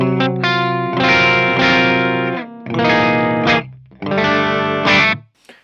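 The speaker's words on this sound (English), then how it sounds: "let's try to play the cleans on the humbuckers, so on the bridge humbuckers, so it sounds like this" A clean electric guitar on the bridge humbucker pickup rings out in three sustained strummed chord phrases, played close and fairly loud with short gaps between them.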